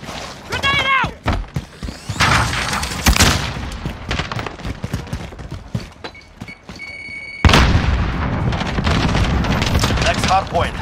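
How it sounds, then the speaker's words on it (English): Chaotic combat from Call of Duty Modern Warfare: sharp bursts of gunfire and booming blasts, including a grenade explosion, with a heavy blast near the middle followed by sustained firing and shouted voices. "Grenade out!"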